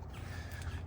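Crows caw faintly over a steady low rumble of distant road traffic, the calls thin and scattered in the background, outdoors among lychee and longan trees.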